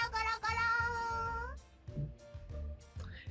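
A voice imitates a cat girl's purring and meowing, with a drawn-out whiny meow-like cry followed by soft, rhythmic low rumbling purr sounds, close and alone.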